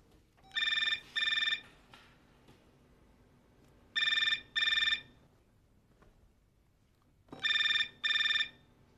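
A telephone rings in a home during a Marathi TV drama scene, with three clear pairs of electronic double rings separated by short quiet gaps and no talk over them.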